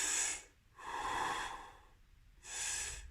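Exaggerated chest breathing, heard close and alone: three loud, airy breaths, with short quiet pauses between them.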